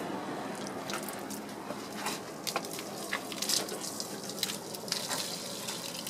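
Water sprays steadily while shampoo is rinsed off a car's bodywork, a continuous close splashing rush with small irregular splatters and no voices.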